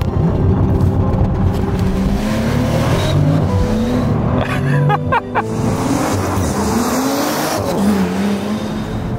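A 2018 Bentley Continental GT with an eight-speed dual-clutch gearbox launches hard under launch control, its engine note loud and close and climbing through rising revs with shift breaks and a brief tyre squeal, no talk over it.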